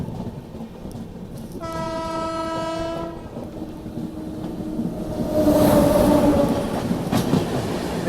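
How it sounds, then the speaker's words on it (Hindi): Gonda Humsafar Express train passing close by with a loud horn blast near the start, followed by a swelling roar of wheels and carriages rattling past. "ये तो गोडा हमसफ़र है।"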